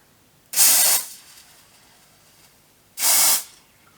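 Two short, loud hissing sprays of a cooling face mist, close to the ear, each lasting about half a second with a pause of roughly two seconds between them; no voices.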